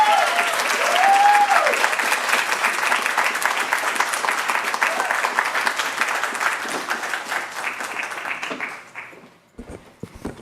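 An audience at a women's empowerment panel applauds after a poem reading, with steady, fairly loud clapping and a few voices calling out, gradually thinning and fading to near silence at the end.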